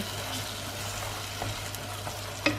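Bulgur being stirred in a pan, a soft continuous frying hiss with light scraping, quiet and close, and one sharper clack near the end.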